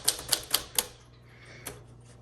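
A 1954 Smith Corona Silent-Super typewriter clacks under heavy-handed typing: four crisp, evenly spaced keystrokes up close, a brief pause, then a lone strike and a final faint tap.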